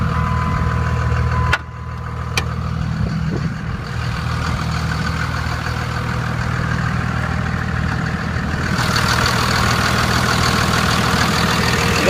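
Diesel engine of a 2001 Dodge Ram truck with a manual transmission idling under an open hood, a steady, loud low rumble that runs continuously, with a couple of sharp clicks early on.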